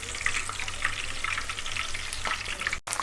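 Curry leaves fry in hot oil with a dense, continuous sizzle and scattered spitting pops, fairly close, with a brief cut near the end and no talking.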